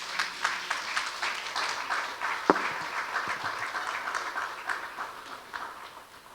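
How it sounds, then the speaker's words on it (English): Scattered audience applause at a summit in honor of a deputy governor, moderately distant, made of quick individual claps with one sharp louder clap midway, steady and thin rather than roaring. "Please, another round of applause for his deputy."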